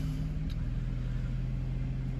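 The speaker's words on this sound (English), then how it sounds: "Starting the car up makes a really nice, quiet yet sporty noise from the 2-litre turbocharged petrol engine." A BMW 320i Touring's 2-litre turbocharged petrol engine idles just after starting, giving a steady, low, even rumble that sounds close and fairly quiet, with no voices.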